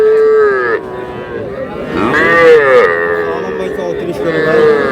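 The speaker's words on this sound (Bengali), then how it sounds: "শাহিওয়ালের ষাঁড় বাচ্চা।" A Sahiwal bull calf at a cattle market gives long, loud moos that rise and fall across the whole stretch, with a brief break, close and clear above the low crowd murmur.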